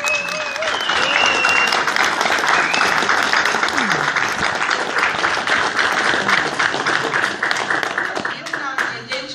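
A large audience breaks into sustained, loud applause for a man who worked day after day on the scaffolding, a dense steady clapping that fills the whole stretch at a parish gathering, with some voices mixed in beneath it.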